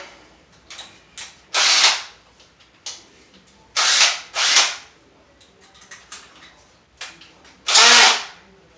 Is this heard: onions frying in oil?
no